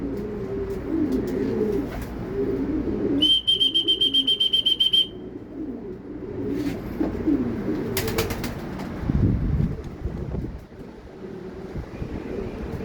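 A racing pigeon flies in to the loft during a club fun race, with soft cooing and flapping wings, a short burst of rapid electronic beeps, and clattering movements nearby.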